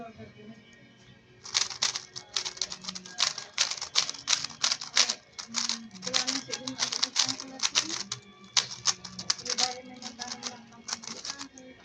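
A GAN 356 M Lite speed cube turned quickly, rapid bursts of sharp plastic clicks in fast rhythmic clusters with brief pauses between runs, close and crisp.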